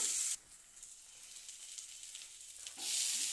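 A steady sizzle of chopped shallots and garlic frying in a pan, close by, with a softer hiss in the middle stretch before the sizzling swells again.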